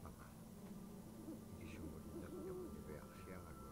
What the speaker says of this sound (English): The owl.